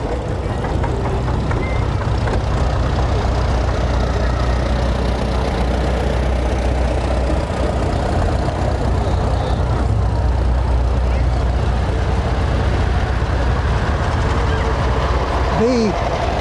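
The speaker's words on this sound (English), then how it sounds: "That's still a 2-cylinder engine, even though it's a John Deere" A John Deere B model two-cylinder farm tractor engine from the 1930s–40s runs steadily, a loud, close, continuous low rumble that holds unchanged throughout.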